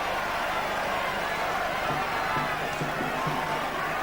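Stadium crowd at a 2006 Cork v Kerry Munster senior Gaelic football final replay, a steady dense roar of many voices rising and swelling throughout, with a commentator's voice faintly mixed in.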